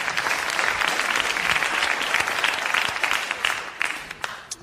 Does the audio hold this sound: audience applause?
yes